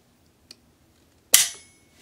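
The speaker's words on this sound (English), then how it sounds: "I'm going to throw some snap caps in it and we'll get it on the trigger gauge" A single-action revolver, a Taylor's & Co. Smoke Wagon with a 4.75-inch barrel, is dry-fired on snap caps against a trigger gauge. A faint click comes first, then a single sharp metallic snap with a brief ring.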